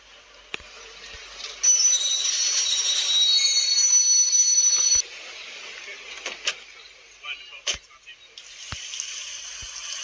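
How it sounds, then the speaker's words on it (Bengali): A train reversing in a train simulator video game, mechanical rolling and rail noise with a sustained high squeal early on, then scattered clunks and knocks, close and fairly loud. "দাঁড়াও একটু ট্রেনটা পিছিয়ে দিই।"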